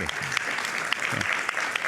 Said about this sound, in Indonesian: Itu bisa tepuk tangan untuk Kang Deddy Mulyadi